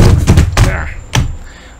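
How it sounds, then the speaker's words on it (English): A door is opened indoors with a quick run of close, loud thumps and knocks, then a final sharp thud after a brief pause. "opening up the door"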